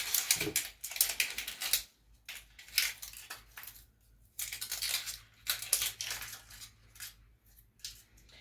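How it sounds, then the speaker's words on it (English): A knife chopping through an onion on a cutting board for haggis, a run of quick, fairly close crisp cuts in uneven bursts with short pauses between them. "I'm going to chop my onion in the meantime"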